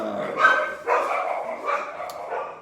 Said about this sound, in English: there's my carnivore dogs